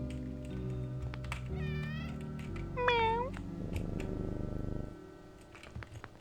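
Kittens meow in the OneShot video game, two clear rising meows over a steady background music bed with soft ticking.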